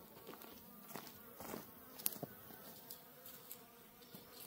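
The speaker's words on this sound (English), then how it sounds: "I think we have a lot of bees that are robbing now" Robbing bees buzzing around hives near a tractor, a faint, steady hum of many insects with a few passing louder buzzes, distant and quiet.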